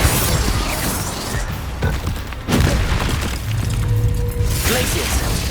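Confringo fire-blast spells exploding during a Hogwarts Legacy duel, loud booming blasts and crashing impacts over dense game effects, with a voice heard among the noise.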